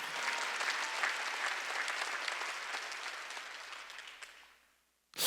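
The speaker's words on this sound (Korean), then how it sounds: "박수치라" Congregation applauding at a church worship service, a full, steady roar of clapping that gradually fades away, followed by an abrupt loud burst at the very end.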